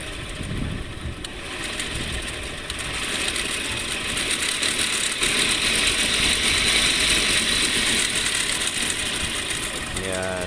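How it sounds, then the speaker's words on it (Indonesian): A cotton candy machine's motor runs loudly and steadily while its sugar-crusted stove is cleaned with water, a dense whirring, rattling mechanical drone that holds for the whole stretch. "suara mesinnya mungkin agak sedikit keras"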